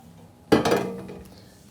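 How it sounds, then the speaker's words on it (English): Potato and cream for a potato dauphinoise are tipped into a baking dish with a single clattering, scraping clink of utensil on dish that fades quickly in a quiet kitchen. "All you have to do is transfer this potato and cream"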